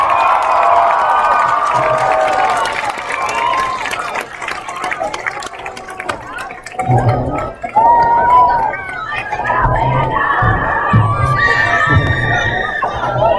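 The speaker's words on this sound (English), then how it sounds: "Let's give it a big round of applause." Crowd at a 2022 high school homecoming football game at halftime cheers and applauds after the homecoming court is presented, a loud sustained roar of voices and clapping that dips briefly mid-clip and swells again.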